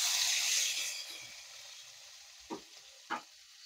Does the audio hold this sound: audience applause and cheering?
no